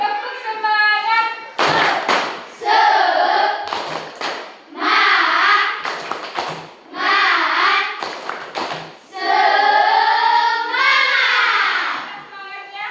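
A school class performs a rhythmic spirit clap, with children chanting loudly in unison between sharp bursts of clapping and thumps, repeating in a patterned call over several rounds.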